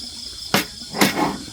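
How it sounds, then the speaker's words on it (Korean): Insects chirp in the grass beside a mountain stream at a rainy bamboo-forest campsite, a faint steady high chirring under two sharp, louder knocking or rustling bursts close by. "풀벌레 소리만 들리는데"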